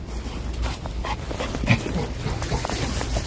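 A small American Bully puppy whimpers and yips softly in short bursts in winter, close by, over a faint background rumble.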